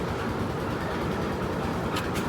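A train rolls past close by, its loud, continuous rumble and rattle filling the whole moment without a break.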